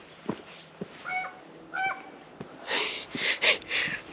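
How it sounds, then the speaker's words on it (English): A bird gives repeated honking, goose-like calls on a mountain hike, short nasal cries spaced across the stretch amid scattered footsteps and rustling, moderately near. "I wonder what kind of bird that is."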